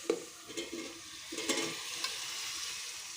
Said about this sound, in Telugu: ఉల్లిపాయ ముక్కలు, పచ్చిమిరపకాయ ముక్కలు వేయించుకుంటున్నాం ఫ్రెండ్స్.